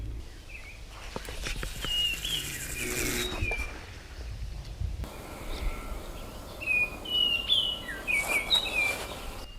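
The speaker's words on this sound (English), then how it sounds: "In case you're wondering what that bird is, that's an oriole making that sound." An oriole sings outdoors beside a spring carp-fishing spot, with repeated clear, whistled phrases over a background of insect hum and faint handling noises.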